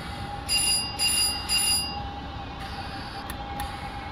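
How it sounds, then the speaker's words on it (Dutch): Simulated NS DDZ double-deck intercity train braking gently on the approach to a station on the Zutphen–Zwolle line, with three evenly spaced tonal chimes over steady rolling rumble, followed by a couple of brief clicks. "Rustig afremmen voor het station."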